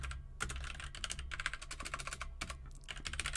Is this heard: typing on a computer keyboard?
yes